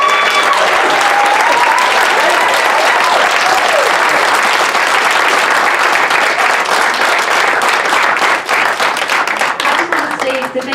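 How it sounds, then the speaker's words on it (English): An audience at a Democratic candidate forum gives the candidates a big round of applause, loud sustained clapping and some crowd noise that thins out near the end, with a voice faintly audible underneath. "Can we get a big round of applause for our candidates?"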